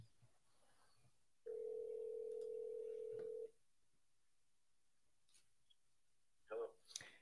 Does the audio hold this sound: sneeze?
no